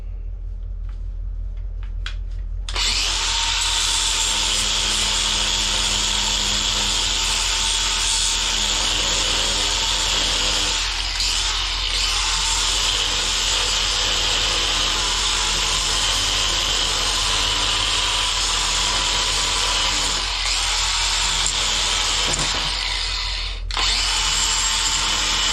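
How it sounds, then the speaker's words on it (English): Continuous buzzing power sander running on wood during a Creeper restoration, steady and loud, with brief dips in pitch as pressure changes. "I'm gonna do some sanding here."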